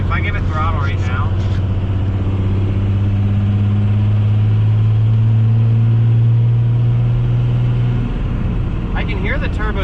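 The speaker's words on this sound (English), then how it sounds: "I can hear the turbo spooling" A VGT-swapped 12-valve Cummins diesel revving, with a steady, loud low rumble and a rising whine from the spooling turbo that holds before dropping back near the end.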